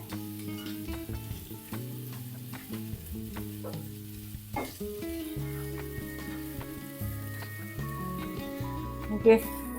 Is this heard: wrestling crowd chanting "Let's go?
no